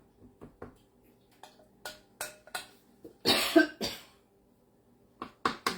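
A person coughs in several sharp bursts spread across a few seconds, with one longer, louder fit in the middle, indoors in a kitchen with faint clicks between coughs.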